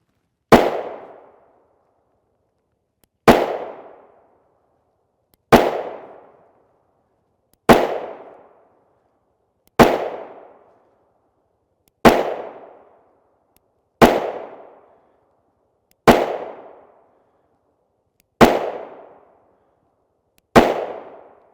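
A Springfield Hellcat pistol with a 3-inch barrel fires 9mm Geco 124gr FMJ rounds: ten sharp, loud single shots spaced about two seconds apart, each with a short decaying echo, no talking.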